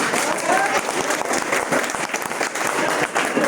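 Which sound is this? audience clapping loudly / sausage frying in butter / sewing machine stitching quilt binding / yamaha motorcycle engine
audience clapping loudly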